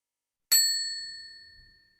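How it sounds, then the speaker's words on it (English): At an environmental all-candidates forum, a single bell ding warns that thirty seconds of speaking time remain; one clear, bright strike rings out alone and fades away slowly. "So that will be the bell that you hear when 30 seconds remain."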